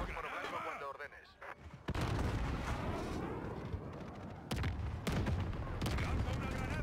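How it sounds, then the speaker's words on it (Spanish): White phosphorus strike in Modern Warfare, dense rolling barrages of explosions and rapid gunfire that roar continuously, loud and close, with a brief lull before heavier blasts resume and a voice talking underneath. "Striker 3-1, listo para lanzar fósforo blanco cuando ordenes."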